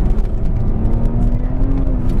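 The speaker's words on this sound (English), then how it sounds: "we're spinning a little tire on corner exit in third gear" A 2016 BMW 340i (F30) accelerates hard out of a corner in third gear, with a loud, close engine roar and a rising tone under a broad rush of road and tire noise.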